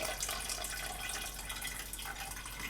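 Water heated to 160 degrees poured from a pot during home brewing, a steady splashing, gurgling stream that runs continuously at close range with no voices.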